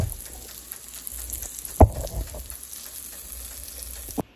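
Burrito searing in a pan on low heat, a soft steady sizzle under faint background hum, broken by one sharp knock as it is set down and a smaller tap near the end.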